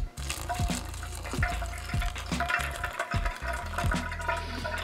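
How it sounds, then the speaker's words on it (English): Water is poured onto coffee grounds, splashing and gurgling in short repeated bursts at close range in a quiet room, with no voices. "Add some more water in there without knocking the whole thing over."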